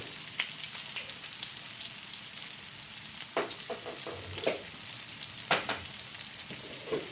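A small splash of olive oil sizzles steadily in a hot pan, a soft continuous frying hiss with faint occasional pops and crackles.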